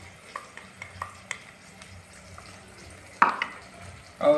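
Eggplant, potato and peas with softened tomato, red chilli, salt and green chilli are stirred in a frying pan: scraping strokes over a gentle sizzle, close, with a sharper utensil clatter near the end.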